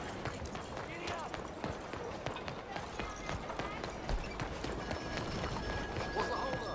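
Horse hooves galloping at a steady run in a Red Dead Redemption game scene, the rapid clip-clop close and continuous, with characters' voices and ambient game sounds over it.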